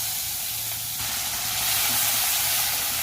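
Bay leaf and white cumin tempering in hot oil for a pangas fish kalia, giving a steady, close hiss and sizzle that swells a little toward the end, with no talking.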